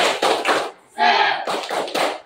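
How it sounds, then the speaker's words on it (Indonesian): A group claps in a quick rhythmic pattern, with bursts of clapping broken by a short shouted chant, loud and close. "Sebelum kita kumpul, tepuk semangat."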